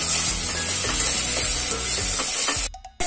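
A green paste of coriander, ginger, green chili and mint sautéing in a pan gives a loud, close, continuous sizzle with stirring scrapes, then cuts off sharply near the end.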